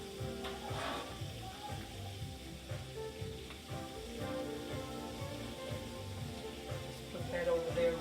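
Beef liver sizzles in a frying pan, a soft, steady crackle that runs quietly under background music.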